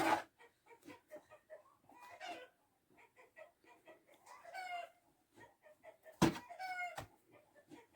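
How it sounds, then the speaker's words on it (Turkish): Hens clucking in short, scattered bursts, with one sharper, louder squawk near the end; fairly close, no talking. "Tavuklar bir yandan yumurtlamaya başladılar Hasan abi"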